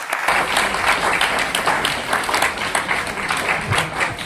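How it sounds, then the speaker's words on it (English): A seminar audience at Surana College applauds after being asked for a big round of applause, giving a loud, sustained wash of many hands clapping that stays even throughout, with no talk over it. "can I have a big round of applause for all of them also?"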